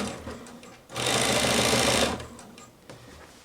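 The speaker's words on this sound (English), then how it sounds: "And I like to sew a zigzag." A home sewing machine stitches a zigzag seam on a blouse in one steady, fast whirring run of about a second, close and fairly quiet, with softer handling sounds before and after.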